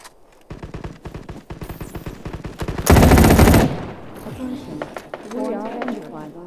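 Machine gun fire in the Battle Prime mobile game: rapid bursts of close, sharp shots, one dense loud stretch in the middle, with someone talking excitedly over and between the firing.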